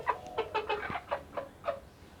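Farm chicks give a run of about eight short, high chirps in an uneven rhythm, fairly close and clear over a quiet background.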